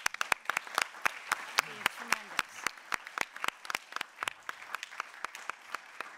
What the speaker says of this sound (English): So if I could just ask us all to clap one more time.